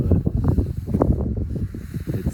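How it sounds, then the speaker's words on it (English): Wind gusting at a lakeside on a blustery day, a continuous rough buffeting rush close to the microphone with no voices. "Sorry about the wind"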